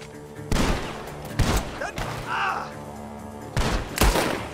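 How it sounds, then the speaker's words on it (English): Gunshots ring out from a barn in a Red Dead Redemption 2 shootout, several loud booming blasts in separate bursts with a quieter stretch between, and no talk over them. "The guns are coming from that barn."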